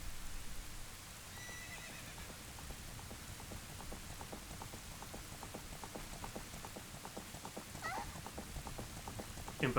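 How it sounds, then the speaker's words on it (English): In The Legend of Zelda: Ocarina of Time, a horse gives a brief whinny near the start of a steady patter of rain, with clip-clop hoofbeats and another faint call later, all fairly quiet. "Impa almost running down Link on that horse"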